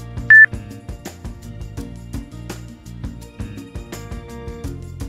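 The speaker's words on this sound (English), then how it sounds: "long pressing the magnification dial until you hear a beep" A single short, clear beep sounds near the start as the magnification dial on a Zoomax Panda desktop video magnifier is long-pressed, followed by quiet clicking and background tones.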